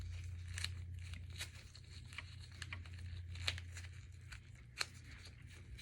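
Medical tape being torn and crinkled to mark the length of an NG tube, a series of soft, close rips and crackles over a low steady hum.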